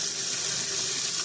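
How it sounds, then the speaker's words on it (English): A kitchen faucet runs in a steady, hissing stream as hands are washed under it, close and unbroken for a brief moment. "So let me wash my hands,"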